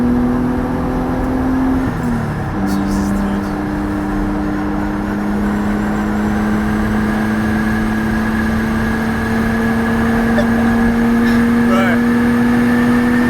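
An RB25-swapped Nissan 200SX engine drones loudly from inside the car, holding a steady high rev after a brief shift, with short exclamations from occupants over it.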